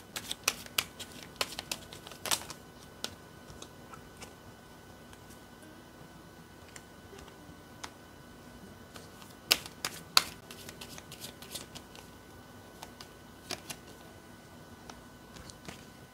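Tarot cards being shuffled by hand, quiet irregular bursts of riffling and snapping card sounds, clustered at the start and middle with calmer stretches between, close and soft.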